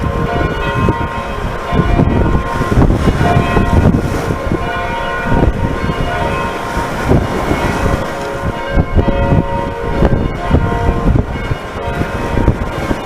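Loud church bells peal continuously and close by, with rich overlapping clangs over rough wind buffeting, and no talking.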